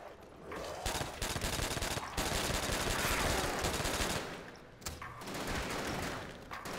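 Rapid video game gunfire in Call of Duty zombies mode, sustained bursts of automatic shots that pause briefly around two and five seconds, loud and close with no talk over it.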